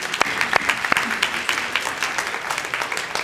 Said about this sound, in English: So one more round of applause for our two young people.